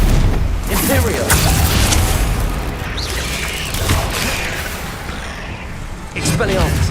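Bombarda explosion spells go off in Hogwarts Legacy, a series of dense booming blasts and whooshes over a loud, continuous battle din, with voices speaking in the mix.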